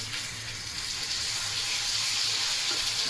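Garlic and ginger paste frying in a pan, a dense continuous sizzle holding steady throughout, close and fairly loud with no talk.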